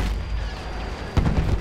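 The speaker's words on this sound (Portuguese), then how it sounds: "Caramba, quantas granadas o cara tinha ali, hein?" Grenade explosions in the Battlefield 1 video game: dense, loud battle roar with a sharp, heavy boom bursting out near the end of the moment.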